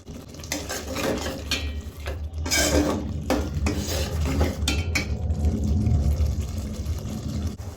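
Masala for a chicken curry is stirred and fried in a pot, with repeated metallic scrapes and clanks of a spoon against the pot over a low frying sizzle, loud and close.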